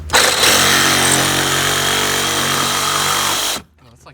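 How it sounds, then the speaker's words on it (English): A large power tool cuts up the body of a Nissan 370Z, a loud, harsh, steady buzzing roar up close that runs for several seconds and then cuts off abruptly. "we got a large power tool inside the nice 370Z"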